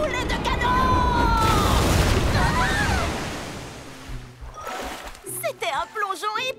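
A heavy splash of water from a cannonball dive into a pool erupts and churns for a couple of seconds before settling, followed by voices talking close by.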